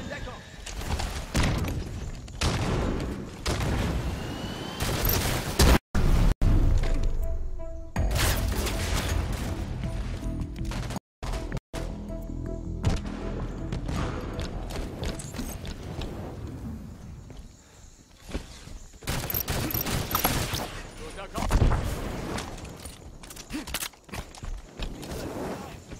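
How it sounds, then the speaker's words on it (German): Halo 5 beta multiplayer match with bursts of gunfire, explosions and grenade blasts filling the whole stretch, loud and dense, with short gaps of silence and players talking over the action. "Granaten auf die andere."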